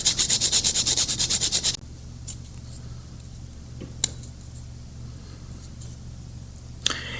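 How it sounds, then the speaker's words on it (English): Sanding a magnet on a miniature Astra Militarum Hydra/Wyvern model: a rapid, loud, rhythmic rasp of strokes for under two seconds, then near quiet with a couple of sharp small clicks. "I'm going to just need to sand away with the magnet still there"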